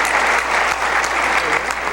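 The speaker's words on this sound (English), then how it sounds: "can we get a huge round of applause for our" Sustained applause from a crowd fills the room, dense and steady clapping throughout.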